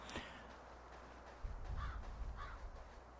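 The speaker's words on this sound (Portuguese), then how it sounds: "E tá aí a coruja aí. Coruja, sei lá que porra é essa que tá gritando aí" A screeching bird call from an owl in the survival video game Last Day on Earth, heard as two short harsh cries far off in the game's ambience, the second following about half a second after the first.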